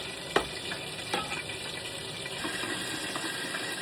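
Bell pepper and tomatoes are stirred in a hot pan for Japanese pasta, a continuous close sizzle and frying hiss with scraping stir sounds and small clinks.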